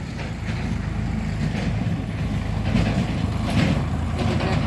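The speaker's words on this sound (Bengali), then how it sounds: "ট্রাক্টর চলে গেল, কাজের থেকে আসলো বাড়িতে লাঞ্চের জন্য।" A tractor rumbles past on a village road, its low engine drone close and steady throughout, swelling slightly as it passes.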